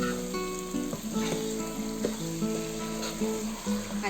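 Marinated chicken fries in a pan for Andhra-style chicken korma, a steady sizzle with occasional stirring under tonal background music.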